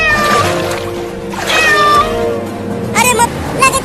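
A cat meows several times in a short scene from a desi comedy sketch about a flood and a boat, with a voice speaking between and over the calls.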